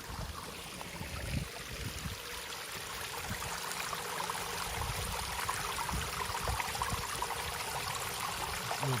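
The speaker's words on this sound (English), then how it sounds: "little babbling stream with some ice down there" A small mountain stream with melting ice babbles below a street in an old Japanese mountain town, a soft continuous trickle and gurgle heard from a little distance, faint and steady throughout.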